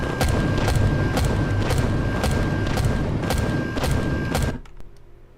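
Ship guns firing in the space survival game Empyrion, a rapid loud volley of booming shots at a regular pace that stops abruptly near the end, with no talking.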